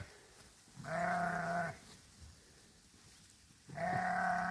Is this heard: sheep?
yes